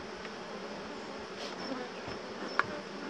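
A dense hum of many honeybees swarming as they are moved into a hive, a steady close buzz with a few louder individual buzzes passing by.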